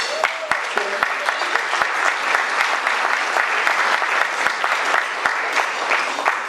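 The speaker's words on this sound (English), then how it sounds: "it would be a good idea if you held the applause till I'm done" Sustained applause from a large audience fills a gala ball hall, steady dense clapping that stays loud and even throughout.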